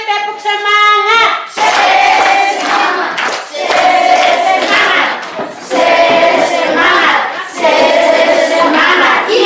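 A group of people claps in unison in a rhythmic spirit-clap pattern, loud and close, with a shout or chant mixed in among the claps after an opening sung or called phrase.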